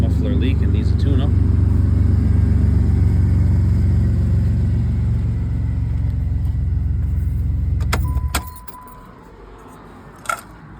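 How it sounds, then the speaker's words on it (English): A 2007 Pontiac Grand Prix V6 with a muffler leak idles nearby, a loud steady exhaust rumble for about eight seconds before it cuts off, followed by a quiet pause and a brief knock. "Runs perfect. It's a muffler leak and needs a tune-up."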